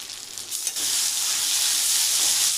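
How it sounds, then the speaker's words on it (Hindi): Ground ginger, turmeric, ajwain and cumin hit hot homemade desi ghee, the quiet pan bursting into a loud, dense, hissing sizzle that holds steady and close for the rest of the moment. "घी में हम जो अदरक और हल्दी, अजवाइन, जीरा इसको पीसा था तो घी में हम डाल रहे हैं।"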